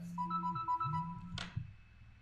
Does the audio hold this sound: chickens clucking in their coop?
no